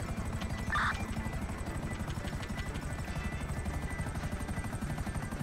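In a video game roleplay, a helicopter's rotor beats in a constant rapid thrum, close and even, with a short electronic beep early on and no speech.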